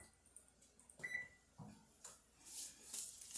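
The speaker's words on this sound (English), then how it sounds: "I'm going to turn my oven back on." Kitchen oven being switched back on during casserole cooking, a few short faint electronic beeps and a brief tone amid quiet clicks and light handling noise, no talking.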